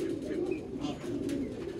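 A fantail pigeon at a pigeon breeding loft coos in soft, low, rolling phrases, fairly close and continuous, with faint chirps from other birds in the background.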